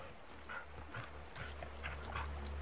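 Dog companion in the Blair Witch video game giving soft, faint whimpers and sniffs over low steady game ambience.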